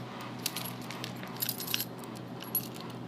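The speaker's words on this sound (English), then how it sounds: "Got some keys sitting right here." A bunch of keys jangles close by, giving scattered bright metallic clinks and rattles in short bursts over a quiet room hum, with no one speaking.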